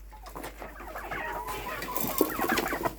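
Several chickens clucking and murmuring nearby, with a few sharper squawks toward the end over a low background hum.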